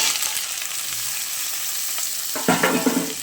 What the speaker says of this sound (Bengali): আলুটা দিয়ে ভালো করে কষাবো।